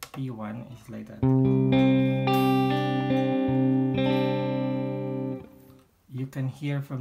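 Guitar chords and notes played through a Digitech RP55's ping pong stereo delay sustain with bouncing repeats, framed by someone speaking before and after the playing.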